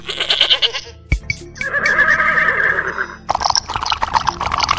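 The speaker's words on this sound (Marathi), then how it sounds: "घोडा" A horse gives a loud, close whinny with a rising and falling squeal, set between clopping hoof sounds and a sharp thud. There is no talking.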